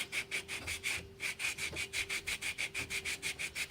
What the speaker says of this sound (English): You always want to use a sanding block to keep a consistent pressure on it.